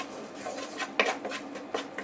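A spoon scrapes and stirs a dry flour-and-butter roux in a pan, giving soft, close scraping with a few light clinks against the metal, with no voices.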